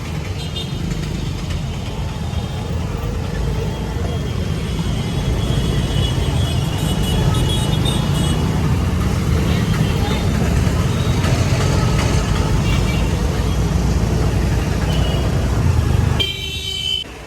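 Evening rush-hour road traffic in Junagadh at 6 pm makes a continuous engine rumble with scattered horn toots, while a person talks over it nearby.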